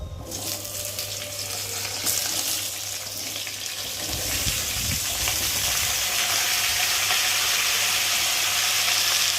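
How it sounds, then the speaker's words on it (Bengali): Cut pumpkin and potato pieces hit hot oil in a pan and set off a loud, rising hiss that settles into a steady, close sizzle, with some handling noise near the start. "এখন এই যে কেটে রাখা কুমড়ো আলুগুলোকে দিয়ে একটু ভালো করে কষিয়ে নেব"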